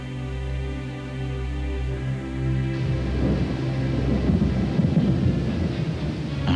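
A thunderstorm rolls in alone, a low steady rumble giving way to a louder, crackling burst of thunder with rain-like texture building through the second half.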